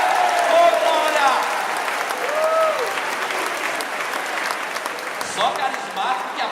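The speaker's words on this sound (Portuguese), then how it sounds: "Vamos aplaudir isso, nós vamos morrer." A congregation at a diocesan congress applauds with loud, sustained clapping from many hands. Scattered voices call out within the applause.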